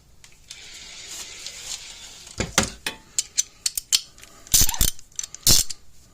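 A 1/2 inch ratchet clicking during front axle removal, with bursts of sharp metallic ratcheting, loud and close, in uneven runs with brief pauses, no speech.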